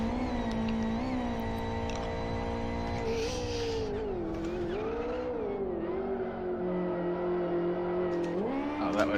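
A simulated car engine in the racing game Live for Speed drones steadily, its pitch wavering and shifting as it runs after the car is damaged, with brief tire and impact noises mixed in.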